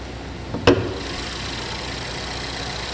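The 2.4-liter engine of a 2014 Chevy Equinox idles under the open hood with a steady, even hum, after a single sharp knock near the start.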